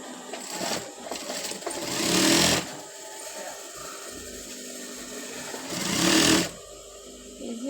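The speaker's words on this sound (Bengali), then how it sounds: "এখন এইভাবে একটা পার্টের উপরে আরেকটা পার্ট আমি এই যেভাবে দিয়ে হচ্ছে ওই পাশটাও সিলাই করে নেব" A sewing machine stitches the side seam of a boy's pants, running in two short loud bursts separated by quieter handling and rustling of fabric.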